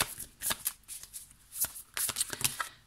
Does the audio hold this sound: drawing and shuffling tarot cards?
yes